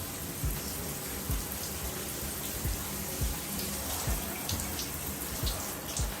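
Selvedge denim jeans, APC Petit New Standard, being rinsed under running water, a dense steady splashing hiss with low thumps as the heavy wet fabric is moved about, close and continuous.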